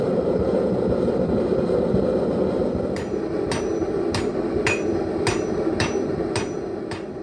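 Heavy 5-pound hammer forging the tip of a 1084 high carbon steel knife, about eight sharp, evenly spaced ringing strikes starting midway, over a constant roaring background noise.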